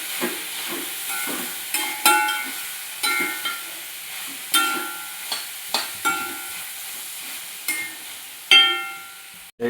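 Beef fry with home-ground masala and pepper powder is stirred in a pan, its sizzle and hiss broken by loud, repeated scraping strokes every second or so.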